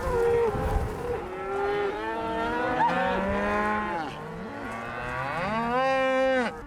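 A herd of cattle on a mini cattle drive, moving uphill into the next pasture, moos constantly, with several long, overlapping calls rising and falling close by and no talking.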